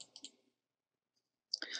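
Computer mouse clicks, a few sharp taps at the start and another cluster near the end with a silent gap between, close and clear.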